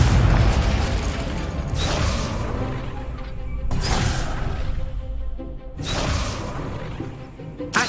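Confringo blasting spell from Hogwarts Legacy, game audio: three loud, booming bursts spaced about two seconds apart, each a sharp broadband crack that decays into a rumbling tail over continuous game sound.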